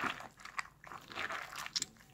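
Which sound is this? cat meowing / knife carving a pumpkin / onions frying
knife carving a pumpkin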